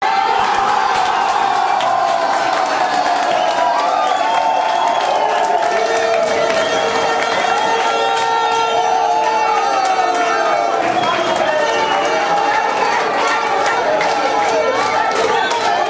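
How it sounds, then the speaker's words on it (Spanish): Football fans celebrate a late goal at a draw, a loud, continuous crowd roar with cheering, shouting and whistles throughout, voices layered thickly over one another. "El gol, que llegó casi de último, arrancó sonoros aplausos, rechiflas"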